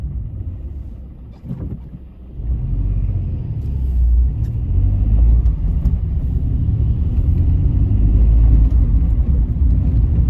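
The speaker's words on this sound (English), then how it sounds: "I'm driving right now." A car driving on the road, its steady low engine and tyre rumble rising slightly after a brief dip, with wind noise over the microphone and no talk.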